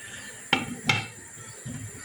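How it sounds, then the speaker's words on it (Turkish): A cooking-pot lid is set down over a pot of pilaf with two sharp metallic clanks in quick succession, followed by a soft rattle, close and clear with no talk. "Ve bunun kapağını kapatıyorum."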